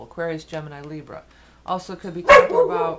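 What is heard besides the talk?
dog barking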